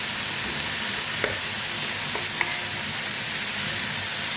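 Onions frying in a pan with occasional stirring, a dense, loud, continuous sizzle and crackle with a couple of faint scrapes, close up and with no talking.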